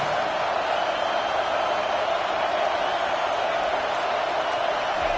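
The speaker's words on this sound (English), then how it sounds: "this crowd trying to help keep them there" Football stadium crowd keeps up a steady, dense roar of cheering and noise, constant in level throughout with no breaks.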